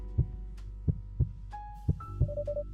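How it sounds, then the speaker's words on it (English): A heartbeat in a video game demo thumps in slow, irregular pairs of low beats close up, alongside a quiet hum and a few soft electronic tones rising near the end. "Surely he can at least hear my heartbeat in the silence that follows."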